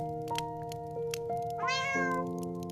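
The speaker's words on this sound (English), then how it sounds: "Meow." A single drawn-out cat meow rises and bends in pitch near the end, with a tonal backing running underneath.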